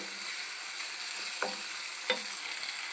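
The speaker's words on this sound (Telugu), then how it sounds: "వీటిని బాగా మగ్గించుకుందాము దీంట్లోనే కొద్దిగా సాల్ట్ పసుపు వేద్దామండి" Hyacinth beans sizzle steadily in a hot pan with salt and turmeric as they soften, a constant close frying hiss with two brief scraping stirs partway through.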